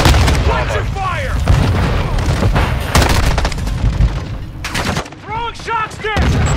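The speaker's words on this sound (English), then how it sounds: "Launcher fire!" A launcher fires in a Call of Duty Modern Warfare 2 multiplayer Domination match, buried in a dense, loud barrage of gunfire bursts and booms, with voices calling out through the chaos.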